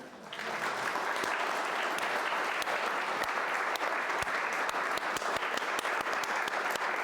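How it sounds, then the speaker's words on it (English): Audience applause, a steady dense clapping that swells in quickly and holds evenly for several seconds, heard from a moderate distance with no talk over it. "I think we need a huge round of applause for Dan"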